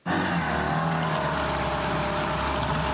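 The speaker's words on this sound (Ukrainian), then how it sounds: "Ось більший моторний, але спершу був лише цей маленький гумовий човен." Motorboat engine on a river crossing, a loud, steady droning roar with a constant low hum that starts abruptly and runs unbroken, close by and without speech.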